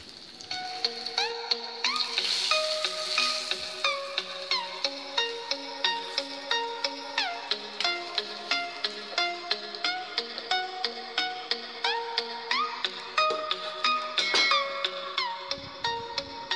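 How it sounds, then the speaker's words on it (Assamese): Boiled eggs fry in hot oil with salt and turmeric over a low flame, giving a steady close sizzle and crackle broken by regular soft taps and scrapes as they are stirred and turned. "নিমখ আৰু হালধি দি পেলাই কম জুইত ধুনীয়া ৰঙা হোৱাকৈ ডিমকেইটা ফ্ৰাই কৰি ল'লোঁ।"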